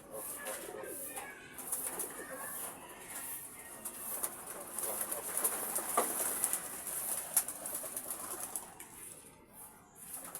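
Pigeons coo softly in a steady backdrop, with bursts of wing flapping and faint movement mixed in, heard at moderate distance without talk.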